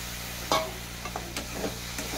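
Spice paste sizzles in a wok for a red country chicken curry with new potatoes while a spatula scrapes and stirs in several distinct, close strokes over a steady frying hiss.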